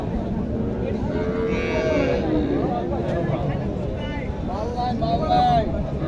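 Cattle moo repeatedly at a busy village cattle market, the Mataji haat in Naogaon district, where local cows and improved-breed calves are sold; several long, loud lowing calls rise over constant crowd chatter and nearby voices.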